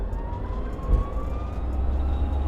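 Electric-converted 1957 Porsche Speedster accelerating, its motor whine climbing steadily in pitch over a low rumble of road and wind noise, close and fairly loud.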